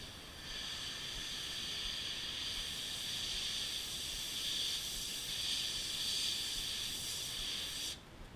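An airbrush spraying paint onto a shad fishing lure, a steady close hiss that starts abruptly, holds evenly for several seconds and cuts off cleanly at the end.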